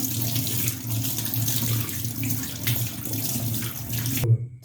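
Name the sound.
water from tap rinsing cleaned gas stove burner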